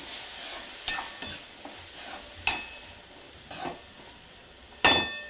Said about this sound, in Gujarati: આ સૂર્યા બટેટાના શાકને ઉમેરી દેવાનું છે અને હલાવી દેવાનું છે